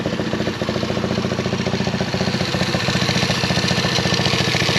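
Honda Navi motorcycle engine idling close by, a loud steady rhythmic putter with fast even pulses throughout and no talking.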